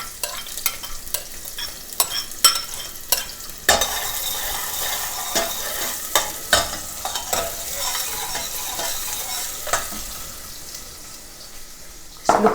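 Onions frying in a pan, a loud bright sizzle that jumps up as they go in, with repeated clattering stirs and scrapes throughout, close and without talk.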